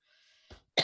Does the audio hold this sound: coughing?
yes